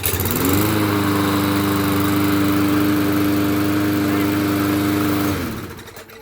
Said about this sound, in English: Turn on your safety to start the engine.